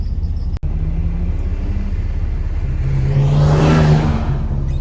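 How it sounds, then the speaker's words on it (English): Nissan G35 fitted with an HKS replica exhaust starts up after a brief crank, its engine catching into a low, fairly quiet idle rumble that swells slightly, heard up close with no talking. "You guys are gonna have to wait to hear the startup."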